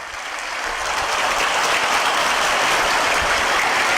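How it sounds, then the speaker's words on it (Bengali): Loud applause from schoolchildren at a school event, a dense sustained clapping that swells in the first second and then holds steady and close throughout, with no voices over it. "তার জন্য এবার একটা জোরে হাততালি দাও।"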